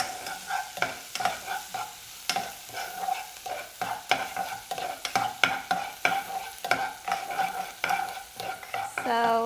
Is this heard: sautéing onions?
yes